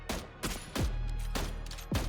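Gunshots ring out in the video game PUBG as five sharp, booming reports spaced irregularly over about two seconds, each cracking loudly over a low background rumble.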